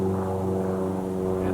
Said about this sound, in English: and there's an airplane